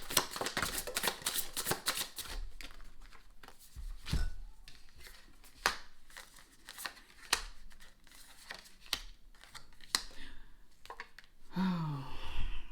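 Tarot cards being shuffled, a run of crisp riffling and snapping card flicks up close, followed by scattered taps and slaps as cards are handled, with a brief voice near the end.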